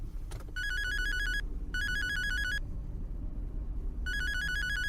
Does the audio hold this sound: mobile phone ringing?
yes